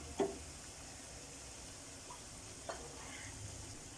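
Balls of idli frying in hot oil make a quiet, steady sizzle, with a couple of brief clicks or pops from the pan. No one speaks.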